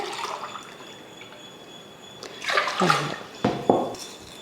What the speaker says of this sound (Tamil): அதுக்கு தண்ணி சேர்த்துக்கலாம்